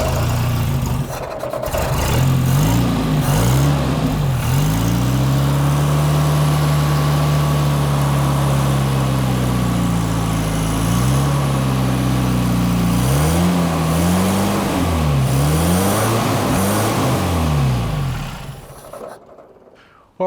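A Toyota RA28 Celica fastback engine idles roughly and revs repeatedly, pitch rising and falling in several swells over a low rumble, loud and close, before cutting off near the end.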